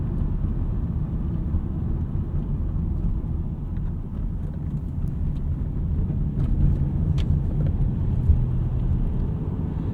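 2005 Toyota Solara coupe driven on the road, a steady loud low engine and tire rumble filling the cabin throughout with no talking.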